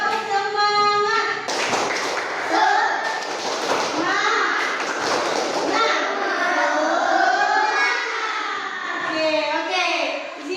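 Children in an elementary school class perform the 'tepuk semangat' clapping chant, with rhythmic claps and taps mixed with their lively chanting voices, plus bursts of sung or shouted words throughout.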